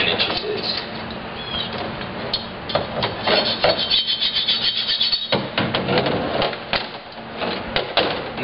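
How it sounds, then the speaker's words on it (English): A hacksaw lightly scores a clamped wooden stick, producing short irregular rasping strokes at close range, with faint background chirps and murmurs mixed in. "I take my hacksaw and lightly mark where"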